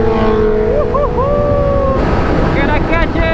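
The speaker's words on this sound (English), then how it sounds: "today we're filming this 2006 Suzuki GSXR 1000" A 2006 Suzuki GSX-R 1000 K6 motorcycle being ridden, with loud engine tones rising and falling through gear changes under heavy wind rush at the microphone, steady and close throughout.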